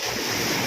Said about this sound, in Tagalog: Biglang tumaas ang alon.